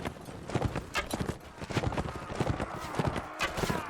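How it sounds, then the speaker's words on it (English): Horse hooves clip-clop in a steady galloping rhythm while riding in Mount & Blade: Warband, a medieval battle video game, loud and close with occasional whinnies and battle noise. "I can actually move around on my horse."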